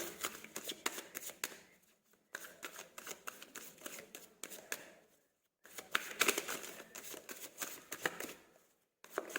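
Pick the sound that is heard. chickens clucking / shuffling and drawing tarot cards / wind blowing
shuffling and drawing tarot cards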